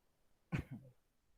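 A single short cough, close and fairly faint, surrounded by quiet.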